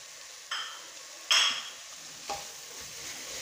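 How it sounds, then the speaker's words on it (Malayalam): Spices, coriander and mint are stirred into beef biryani in a pot. Three distinct scraping strokes of a spoon sound close over a faint, steady sizzle. "ഇത് നന്നായിട്ട് യോജിപ്പിക്കാം"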